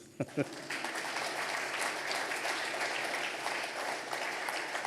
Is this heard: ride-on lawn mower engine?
no